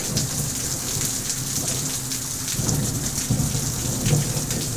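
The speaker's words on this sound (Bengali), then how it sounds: "দেখছো বাইরে খুব জোরে জোরে বৃষ্টি হচ্ছে।" Heavy rain pours steadily outside, close and loud, with rolling thunder rumbling low underneath and swelling a few times, no voices over it.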